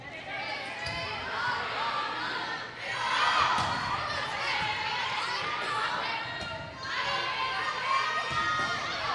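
A home crowd cheers and shouts at a high school volleyball game in a gym, with youthful yells in bursts, rising and falling over the full stretch, and voices mixed into the noise.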